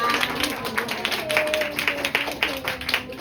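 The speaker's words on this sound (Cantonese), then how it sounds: "我哋俾掌聲啊！" An audience at a promotion workshop breaks into scattered clapping, a fairly close patter of many hands with a voice talking over it.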